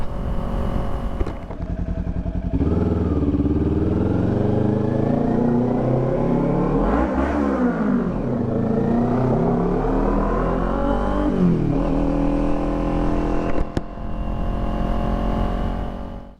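Kawasaki Ninja 400 motorcycle fitted with a Coffman's Shorty slip-on exhaust, revving loudly and steadily with rising and falling engine pitch through the run, close by with no talk.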